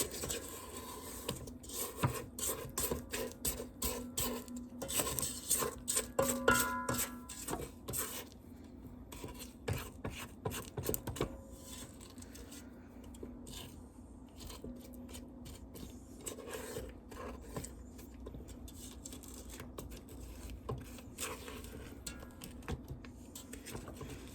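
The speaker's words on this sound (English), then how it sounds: "Let me give that a scrape down." A spatula scrapes down the sides of a mixing bowl of cowboy cookie dough, giving a quiet run of soft scraping and tapping strokes, busier at first and then sparser and fainter.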